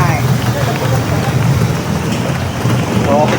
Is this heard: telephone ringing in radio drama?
no